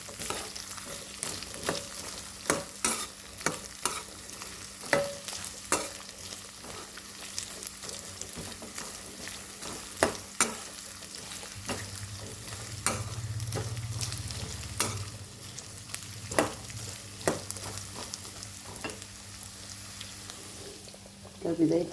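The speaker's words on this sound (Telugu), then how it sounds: "ఆయిల్లో బాగా ఫ్రై అవ్వాలండి." Coconut pieces fry in oil with a continuous close sizzle, while a utensil scrapes the pan in repeated stirring strokes.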